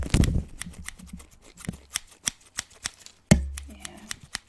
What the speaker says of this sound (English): they're my bandage scissors, so they're kind of dull, but enough to cut bandages and tape off